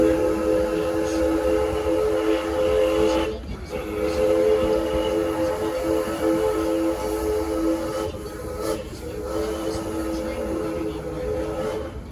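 A vintage narrow-gauge theme park train on the Six Flags & Texas Railroad rolls along with a steady low rumble and mechanical hum, tonal bands running throughout with brief dips, carrying on without talk.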